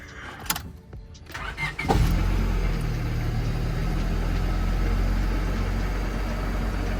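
Honda Civic engine cranking and starting cold, then settling into a steady, loud idle with a low hum that continues to the end.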